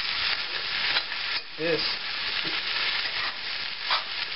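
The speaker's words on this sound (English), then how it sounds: "Some of these bigger pieces could go a little longer, but it's frying perfect." Chopped cabbage and Spam frying in a pan, with a steady crackling sizzle, occasional stirring scrapes and a brief spoken word over the cooking.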